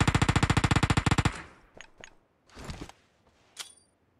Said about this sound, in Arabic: شوف بيضرب عليا ازاي